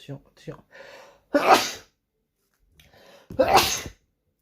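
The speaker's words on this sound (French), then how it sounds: "je crois que je vais éternuer" Two loud sneezes about two seconds apart, each preceded by a sharp breathy inhale, close to the microphone with brief vocal sounds before the first.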